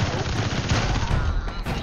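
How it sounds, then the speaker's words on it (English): Rapid MP5 gunfire in a video game, a dense continuous stream of loud close shots with no gaps across the short burst. "you shoot those guys with your MP5?"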